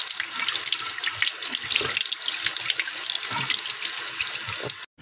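Bunches of moringa leaves washed under a running tap: a steady, loud splash of water pouring into a sink with rustling leaves, broken off abruptly near the end.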